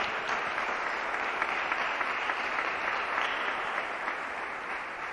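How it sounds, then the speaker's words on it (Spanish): Steady applause from a church congregation at a worship service, a dense continuous wash of clapping that stays even and fairly loud throughout with no voices standing out. "Dele un fuerte aplauso a Él, a Cristo por eso"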